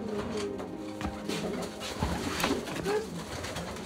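Carrier pigeons coo in a breeder's loft in Germany's Ruhr Valley: several overlapping soft, throaty coos and rustles repeat close by at a moderate level, with no clear speech.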